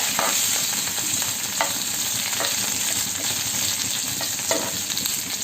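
Food sizzles steadily in a hot pan as something is fried with green chillies, a continuous close crackle with occasional brief scrape or stir sounds and no voices.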